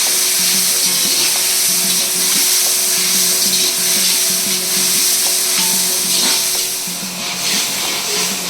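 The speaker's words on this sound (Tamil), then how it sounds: "அப்புறம் தக்காளி வெங்காயம் மிக்ஸ் பண்ணவும் போட்டது" Tomato and onion frying in a pan as they are stirred, a steady loud sizzle and hiss up close with faint scraping of the utensil, heard alone without voices.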